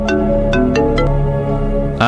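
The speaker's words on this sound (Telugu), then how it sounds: "నాకే ఫోన్ చేస్తున్నారు" A phone ringtone sounds for an incoming call, a short series of clear electronic tones playing loudly over a steady background hum.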